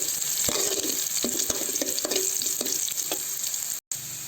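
Onions sizzle and crackle steadily in hot oil in a pan, with a few sharper stirring scrapes and pops close by and no voices.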